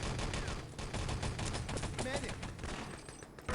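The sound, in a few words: machine gun fire in a competitive shooter video game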